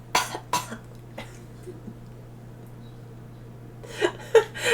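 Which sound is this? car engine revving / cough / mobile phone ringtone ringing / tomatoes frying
cough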